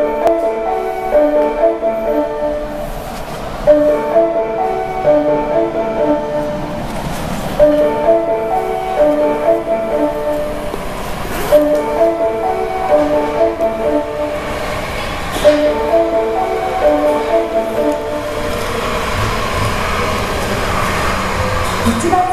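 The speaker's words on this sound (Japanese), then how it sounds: "到着の電車は当駅止まりです" An Osaka Municipal Subway Tanimachi Line 30-series train rolls in with a rumbling, rhythmic clatter, while a melodic station chime and a faint Japanese announcement voice play over it.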